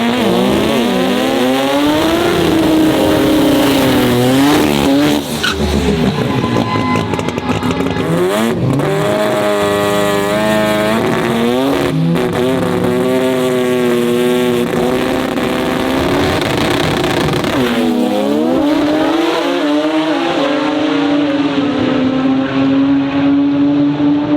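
Rotary-engine drag race cars roar past in a loud, continuous run, engine pitch sweeping up and down through gear changes and passes, with a brief drop near five seconds before the high-revving, buzzy drone resumes and holds to the end.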